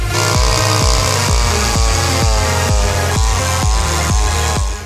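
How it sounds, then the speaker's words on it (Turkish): A Kingsaw chainsaw cutting through thick, dry trees, its engine droning loud and close with a steady pulsing rhythm of load and release, alone without speech. "Kingsaw testereyle en kalın ağaçları, kurumuş ağaçları zorlanmadan, yorulmadan kolayca peynir gibi kesersiniz"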